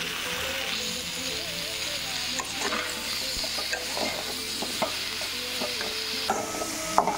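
Food fries in oil while being stirred, a soft steady sizzle with scattered scraping taps near the pan, quiet and without speech.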